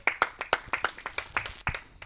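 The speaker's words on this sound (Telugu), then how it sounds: "కొట్టండి చప్పట్లు గట్టి." Church congregation clapping in a steady rhythm, about a dozen sharp claps at an even pace, fairly close and moderately loud, with no voices over them.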